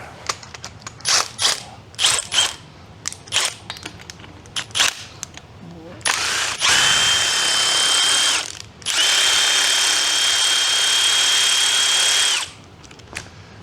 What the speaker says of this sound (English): So it works like a regular ratchet.